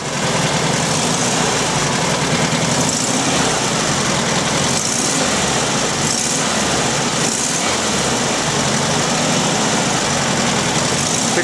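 Classic VW camper engine idling after a fuel line replacement, a steady even ticking-over rumble with a rhythmic pulse, loud and close, no voices.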